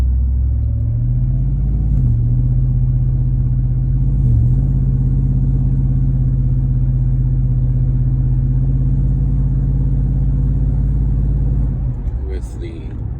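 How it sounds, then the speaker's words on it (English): Vehicle with a 6L80 automatic transmission, torque converter clutch turned off, under light acceleration through the gears; a loud, steady low engine drone with a couple of brief shift dips, easing off near the end. "That was a light acceleration with the clutch turned off."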